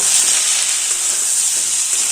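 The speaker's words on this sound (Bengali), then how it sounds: "এবার কড়াইশুটিটা দিয়ে আলুটাকে আরও এক মিনিট ভেজে নেব" Potatoes and green peas frying in oil in a wok, a steady bright sizzle and hiss that holds evenly throughout without talk.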